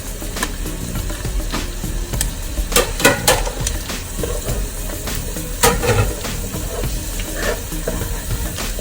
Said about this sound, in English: So now we're going to put in our sausage that we cut earlier.